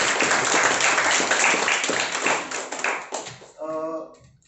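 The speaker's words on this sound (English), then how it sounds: "So big round of applause." An audience at a speakers forum applauds steadily for several seconds, then the clapping fades as a voice begins talking near the end.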